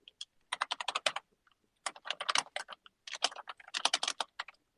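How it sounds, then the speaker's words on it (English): Typing on a computer keyboard during a podcast recording: quick bursts of crisp, close key clicks in rapid irregular runs, separated by short pauses, with no talking over them. "I'm just typing that on the Discord."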